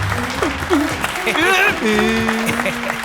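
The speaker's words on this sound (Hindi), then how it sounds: "ताली बजाने के लिए आप लोगों का बहुत बहुत शुक्रिया" Office staff applaud, steady clapping mixed with voices, a whistle-like tone and other background sounds.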